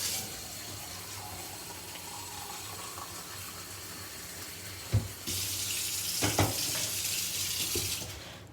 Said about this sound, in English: Then I fill up some water.